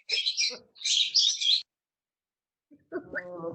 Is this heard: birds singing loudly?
yes